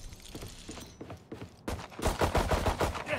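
Rapid bursts of gunfire from the video game Valorant, a dense run of sharp shots that grows louder and more continuous in the second half, with no talk over it.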